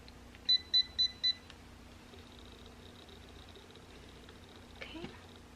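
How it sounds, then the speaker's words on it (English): A Chi Spin N Curl automatic hair curler gives four quick, evenly spaced electronic beeps close by, followed by quiet room tone and a faint tonal hum, with a brief soft voice near the end. "this takes way longer to beep. It's like double the time."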